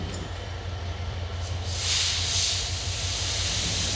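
The Khulna Simanta Express clatters through Santahar rail junction, a loud near rumble of wheels with a steady low hum and a burst of hissing partway through.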